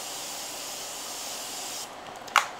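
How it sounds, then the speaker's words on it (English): Morphe setting spray misted onto a made-up face, a steady close hiss lasting under two seconds that cuts off, then a sharp click or tap. "We are going to use our Morphe setting spray."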